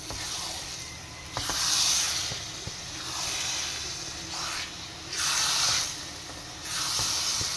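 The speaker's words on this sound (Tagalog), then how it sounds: "Tapos yung tunog niya, parang parang nagigisa na o parang napiprito." Laing, taro leaves cooking in oil, sizzles and fries in a pan with a steady hiss that swells in repeated loud bursts, with no talking.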